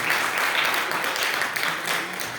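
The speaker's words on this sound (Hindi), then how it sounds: "हाँ शाबाश बेटा, मेरे लिए ताली लगाई।" A short burst of clapping from a group, even and dense, keeps a steady level across the whole moment, with no voices standing out above it.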